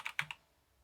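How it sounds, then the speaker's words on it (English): Three quick keystrokes tap on a computer keyboard, close and crisp, with a short burst of clicks followed by silence. "If I can type."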